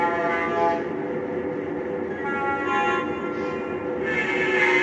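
A Clear Shell E6 locomotive on a customer run rumbles loudly and steadily at close range, a dense continuous engine roar with no talking.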